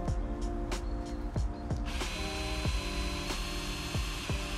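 A power drill in a VR solar installation game whirs continuously with a steady hum, punctuated by repeated clicking and thudding impacts at a regular pace.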